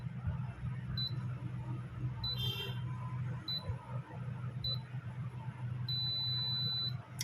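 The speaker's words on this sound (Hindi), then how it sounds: "आपने देखा सुना कि C9 पर हमारा लॉन्ग बीप कर रहा है।" A Daikin split AC unit showing a C9 error gives a series of short high beeps and then one sustained long beep, faint over a steady low hum.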